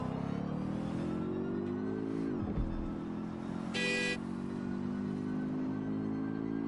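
Car in the video game Watch Dogs Legion driving with a steady engine rumble and rising revs, a thud of impact partway through, and a brief high tone near the end, all close and continuous with no talk.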